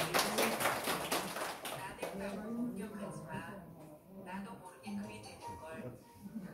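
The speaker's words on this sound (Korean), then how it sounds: "박수 주세요." A brief burst of clapping from a small group at a school counseling staff training session in Namwon, loudest at the start, then fading under close, continuous talk.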